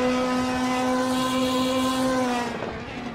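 Ferrari Challenge race car at Barcelona in 2018 passing under braking, a loud steady high engine tone close by that drops and fades near the end as it brakes away.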